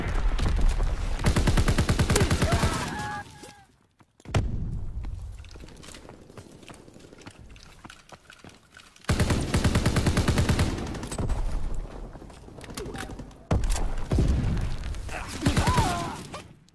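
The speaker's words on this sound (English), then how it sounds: "Sending mortar rounds." Mortar rounds exploding in a video game hardpoint match, heavy booming bursts in several loud clusters separated by quieter stretches, with a voice speaking briefly.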